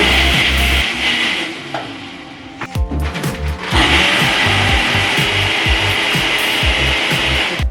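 A kitchen blender runs with a loud, rough whirring grind that dips briefly midway, then surges back steady and harsh until the end, with no voices.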